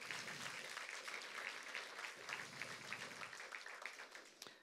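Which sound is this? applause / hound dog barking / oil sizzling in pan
applause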